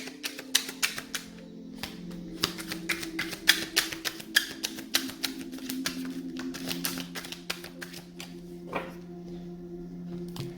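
Tarot cards shuffled by hand during a twin flame reading: a run of crisp, irregular snaps and taps, close and fairly quiet, over a steady low hum, with no one speaking.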